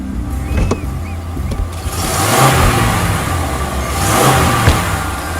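A car engine runs after starting, revving up in two rising surges with a steady mechanical drone underneath, loud and close.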